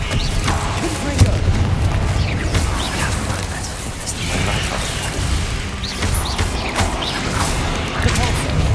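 Confringo blasting spells in the game Hogwarts Legacy: repeated thumps, crashes and explosive bursts among busy combat noise, with a voice speaking over part of it.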